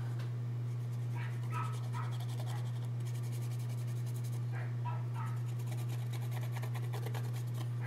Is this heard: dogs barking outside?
yes